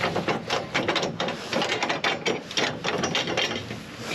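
A hand ratchet loosening a roof rack fastener, giving a fast run of close, sharp clicking strokes in quick bursts with no talk.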